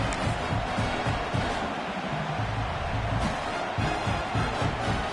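A dense, steady roar from a large crowd in a College Football 26 video game, loud and continuous throughout with a broad wash of cheering noise and no clear breaks.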